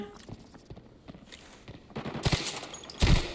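Gunfire in Arena Breakout starts with quiet scattered shots, then loud close bursts of automatic fire crack out near the end.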